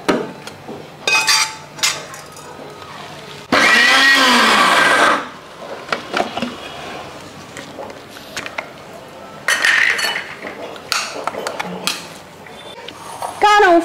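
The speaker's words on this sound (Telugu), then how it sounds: "సో గ్రైండ్ చేసుకున్నాము మొత్తం గ్రైండ్ చేసుకున్నాక" A mixer grinder runs briefly at high speed, grinding gongura leaves with rock salt and chili powder, in a loud whirring burst of about two seconds. Clinks and clatter of pots and utensils come before and after it.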